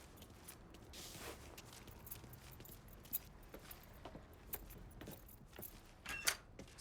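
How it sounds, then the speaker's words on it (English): Light jangling of keys being picked up in the video game Mafia III, faint and intermittent among soft footsteps and low background ambience, with a brighter metallic rattle near the end. "Lincoln, pick up the keys."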